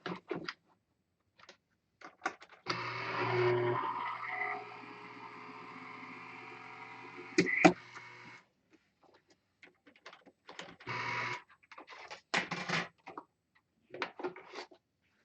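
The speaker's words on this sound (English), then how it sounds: "And now we're going to run that through our machine." An electric embossing and die-cutting machine runs with a steady motorized hum for about six seconds as a plate sandwich with an embossing folder passes through, with brief clicks and handling noises around it.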